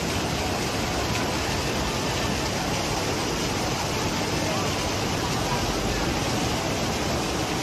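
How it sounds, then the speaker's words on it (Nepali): Rupse waterfall in Nepal on the Beni–Mustang road, a steady broadband roar of rushing, falling water filling the whole clip at constant loudness, with no clear voices above it. "यो चाहिँ रुप्सेको झर्ना है"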